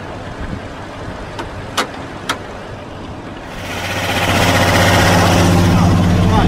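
A car engine, revived with a double-boost jump start, roars up after a quieter stretch with a few sharp clicks, then holds a loud, steady, broadband running drone to the end.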